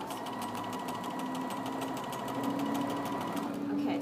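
Sewing machine running steadily as it stitches a stay stitch along a fabric sleeve, a continuous close whir with rapid even needle pulses throughout, with faint talk underneath.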